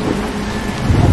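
Rain and rumbling thunder in a bus simulator game, heard as a brief, loud wash of rain noise with a low rolling rumble building near the end.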